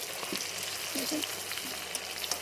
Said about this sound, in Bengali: এগুলো ভেজে তুলে নিয়ে কড়াইতে আবার বসিয়ে দিয়েছি ভাজতে